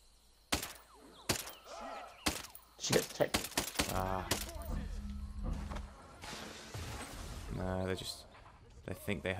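Gunfire in the tactical shooter Ghost Recon Breakpoint: a series of sharp, separate shots and thumps ring out close by at irregular intervals, mixed with game effects and voices talking.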